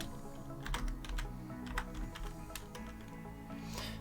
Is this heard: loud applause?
no